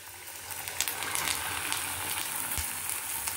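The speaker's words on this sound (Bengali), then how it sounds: "আর একদম কম আঁচে সিঙ্গারাগুলো ভেজে নেব" Samosas stuffed with potato and cauliflower fry slowly in oil over low heat, giving a soft, steady sizzle and crackle throughout with no voices.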